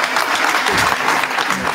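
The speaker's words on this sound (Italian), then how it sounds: "un applauso al maestro." An audience applauds violinist Uto Ughi with loud, continuous clapping from many hands, close and even throughout, with faint voices underneath.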